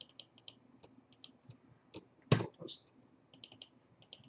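Computer keyboard shortcut presses and mouse clicks while working in Inkscape: a series of light, crisp clicks with one louder clack, close up and with no talking.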